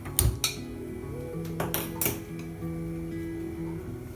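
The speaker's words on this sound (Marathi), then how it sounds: "कढई ठेवली आहे, आता आपण गॅस पेटवून घेऊया।" Metal kadhai set down on a gas stove, giving a few light clinks and ringing taps early on, then quieter scattered metallic contact over a low steady background hum.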